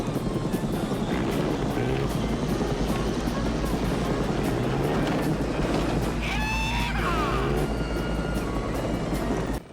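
Helicopter in the 1987 film Number One with a Bullet, a steady loud rotor and engine drone with a low throb, with brief higher whining tones partway through, heard alone.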